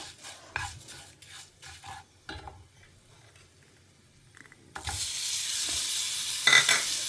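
Food is stirred in a pan in a home kitchen, with a few scraping, clinking strokes. Then a steady, close sizzle of frying rises and continues to the end.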